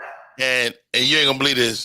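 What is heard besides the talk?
dog barking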